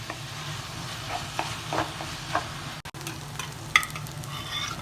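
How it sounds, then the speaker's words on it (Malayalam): Ground meat browning in a pan for an Italian pasta sauce, with a steady low sizzle and repeated scraping and clacking stirring strokes, close and moderately loud. "അത് നല്ലതുപോലെ മിക്സ് ചെയ്തുകൊണ്ടിരിക്കണം ഇല്ലെങ്കിൽ അത് കട്ട പിടിക്കും"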